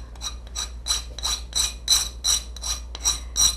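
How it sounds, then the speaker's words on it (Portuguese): Sandpaper is worked around the edge of a cup during napkin decoupage on a cup and saucer. About nine close, rhythmic, scratchy rubbing strokes play over a low steady hum. "Eu venho com a lixa do mesmo jeito, ó."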